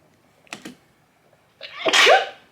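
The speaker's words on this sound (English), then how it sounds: "I needed that sneeze though" A single person's sneeze bursts out loud and close, with a drawn-out inhale building into the sharp release, preceded by a couple of faint clicks.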